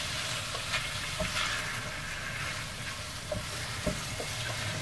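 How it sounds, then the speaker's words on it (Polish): Minced meat frying in a pan with onion and garlic for a homemade pasta sauce, a steady sizzle with intermittent scrapes and knocks of stirring, close and moderately loud, with no talking. "I staramy się to mięso pomieszać razem właśnie z cebulą"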